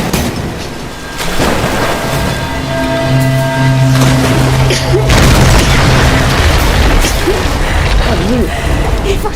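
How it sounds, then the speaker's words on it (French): An explosion in the video game Tomb Raider Definitive Edition erupts after a brief quiet start into a loud, sustained rumbling boom with crackling debris and tonal music underneath. "Ah, ça va tout exploser, tout cramer."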